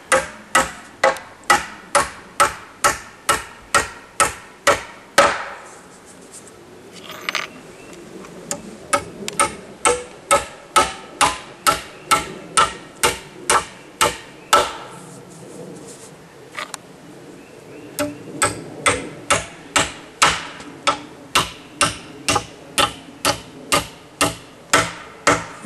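Nails, 16d size, are driven into deck roof framing with a hammer in long rapid runs of sharp, evenly spaced blows, broken by a few short pauses between nails.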